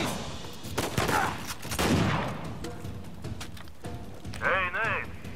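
Gunfire in the video game Uncharted 4, several bursts of shots mixed with game sound effects and a brief swooping electronic tone near the end, with speech present.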